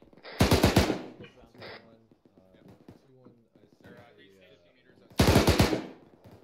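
Two short, loud machine gun bursts of rapid rounds in the military game ArmA 3, one at the start and one near the end, with radio-style voices talking in the quieter gap between them.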